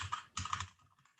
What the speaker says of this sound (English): my keyboard is loud, so it's a little bit hard to hear